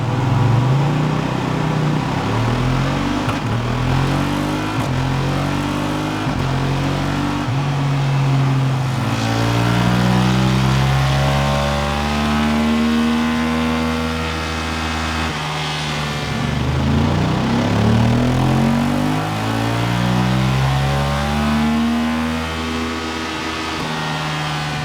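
A Voge DS900X motorcycle, fitted with a decat pipe, revs hard on a dyno, its loud engine note rising and falling through two long sweeping runs with no talking.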